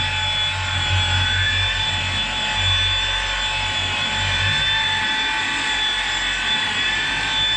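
A machine polisher on its lowest speed setting spreads polish across a car's paintwork, a continuous low motor hum with a steady higher whine, close and unbroken throughout with no talking.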